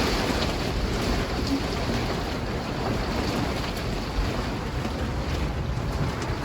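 A storm outside an RV parked near a gas station, with a dense, steady roar of wind and rain that fills the whole stretch without pause, and no one speaking.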